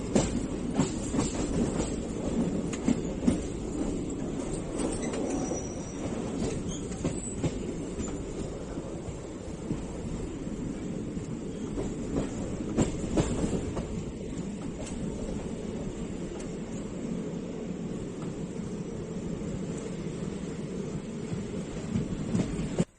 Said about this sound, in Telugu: సో ట్రైన్ అసన్పర్తి స్టేషన్ నుంచి కూడా స్టార్ట్ అయింది